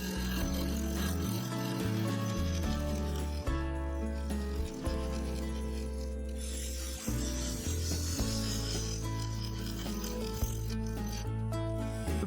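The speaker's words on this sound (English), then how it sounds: "I started with a full-size carbide cutter, removing the waste material, creating a flowing line between the two cherry blanks" A full-size carbide cutter scrapes waste from a cherry bowl spinning on a lathe, giving a continuous rough rasping rub over the low hum of the machine, close and steady throughout.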